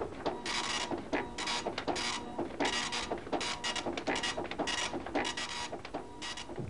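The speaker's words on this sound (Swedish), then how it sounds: "De kommer på skrivaren." A 1980s printer at a mountain rescue radio station prints weather data in rapid bursts of mechanical rasping and clattering, fairly close and steady, with no voices.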